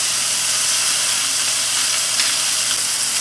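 Beef tenderloin sizzling in a cast iron skillet, a steady loud frying hiss that fills the whole stretch without pause.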